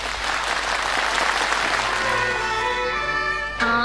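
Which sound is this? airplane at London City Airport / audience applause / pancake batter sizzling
audience applause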